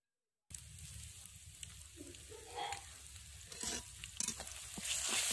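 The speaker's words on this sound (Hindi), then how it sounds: "अदरक लहसुन पेस्ट को तो हम अच्छे से भूनेंगे" Ginger garlic paste sizzles and crackles in a hot pan while being stirred, a steady frying hiss with occasional scraping and louder spits toward the end.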